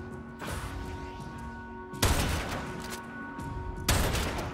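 Loud gunshots from a weapon in Warframe, fired at Tusk Ballista enemies: three heavy blasts spaced about two seconds apart, each with a sharp crack and a decaying tail over a steady game hum.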